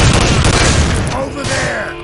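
Gunfire in the PC shooter Soldier of Fortune 2: Double Helix, a loud dense burst of rapid shots, with a voice shouting over it.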